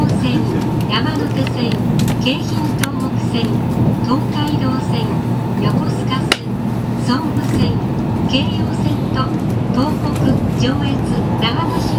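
Inside a moving Tokaido Shinkansen, a steady, even rolling hum and rumble of the train fills the whole stretch, with an announcement voice speaking over it.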